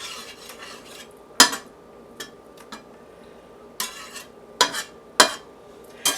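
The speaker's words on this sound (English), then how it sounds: "Let me stir some of that goodness off the bottom of the pan." A utensil stirs water and browned bits in a pan for sirloin tips, with soft scraping and several sharp clinks against the metal, alongside a faint sizzle.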